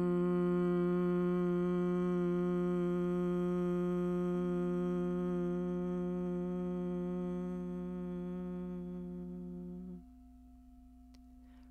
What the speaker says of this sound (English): take a deep breath in, and on the exhale, begin to hum.